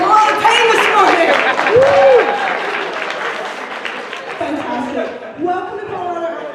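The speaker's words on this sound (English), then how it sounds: "Give a round of applause for everybody who is not from Denver" An anime convention crowd at the opening ceremony applauds loudly while a person talks over the clapping; the applause fades gradually as the voice continues.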